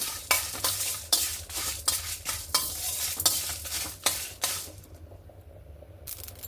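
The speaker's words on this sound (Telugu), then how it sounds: "ఒక టూ స్పూన్స్ ధనియాలండి ఒక నాలుగు ఎండుమిరపకాయలు ఇవన్నీ చక్కగా వేయించుకున్నాము" Coriander seeds and dried red chillies dry-roasting in a pan, stirred in quick repeated scrapes that set the seeds rattling and crackling, before the stirring stops and a quiet hiss is left.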